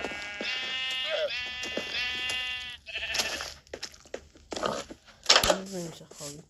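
Bred sheep bleat in a video game, sounding as a few wavering, nasal bleats near the start before a voice talks over the game's shuffling sounds.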